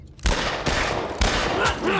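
Gunfire in the video game The Last of Us Part I: several loud bursts of shots in rapid succession, each with a sharp attack and a ringing tail, close and dominant throughout with no speech.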